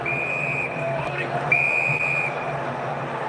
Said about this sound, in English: As the whistle went